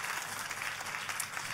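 Audience applause fills a church during a Christian sermon, a dense, steady clatter of many hands clapping together at close range, sustained evenly throughout with no voices breaking through.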